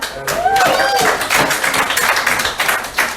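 A comedy club crowd applauds and claps for itself after a comedian's prompt, a full wash of clapping with cheering voices rising over it, close and loud.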